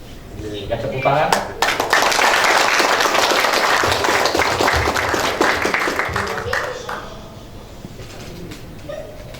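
Audience applause at a HIMNI Bengkulu inauguration ceremony, a loud burst of clapping that swells quickly, holds, then thins and dies away, with voices talking beneath it.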